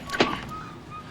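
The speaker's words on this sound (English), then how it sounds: "The door was opened." A door being opened: one brief, fairly close knock-and-creak near the start that fades quickly into a quiet room, with no talking.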